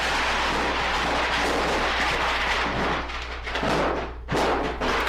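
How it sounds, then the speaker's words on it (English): Big fireworks going off during a backyard firework war, a dense, continuous roar of booms and crackle with a sharp burst near the end, loud and close. "Oh, that's some big firework."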